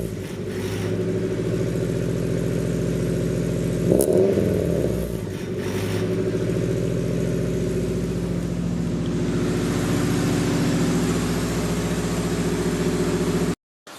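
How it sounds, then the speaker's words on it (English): A 1988–1991 Honda Civic hatchback with a stainless steel Flashark catback exhaust idles with a steady low drone, rising briefly in a short rev before settling back, then cuts off at the end. "Not super loud, just rev it up, let's hear it."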